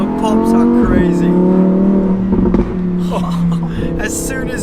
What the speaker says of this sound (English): Oh, the sound. So, yeah, the pops are crazy.